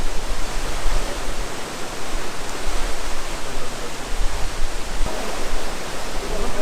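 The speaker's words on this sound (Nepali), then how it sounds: "झरना एकदम खतरा दामी छ" A waterfall roars without a break near Manang, Nepal, a loud, dense wash of falling water that fills everything from close by, with no voices above it.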